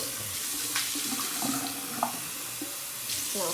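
Hot water running from a household tap, a steady wash of flowing water with small splashes and gurgles, close by and moderately loud throughout.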